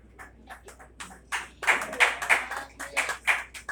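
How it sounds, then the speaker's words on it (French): Audience at an award ceremony for certificates of honour and merit breaks into applause, starting as scattered claps and building into a steady, moderately close round of clapping. "Sur vos applaudissements, mesdames et messieurs."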